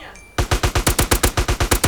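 A rapid burst of gunfire, about a dozen sharp shots in quick even succession, loud and close, with no talking.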